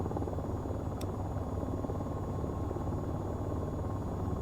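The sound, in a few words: AH-94 helicopter rotor in video game VTOL VR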